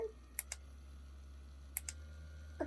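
Buttons on a massage gun pressed in a quiet room: two quick pairs of crisp plastic clicks, then one more click, over faint background hum.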